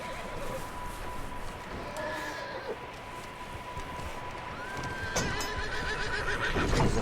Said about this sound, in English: Look at that horse, man. You see that horse?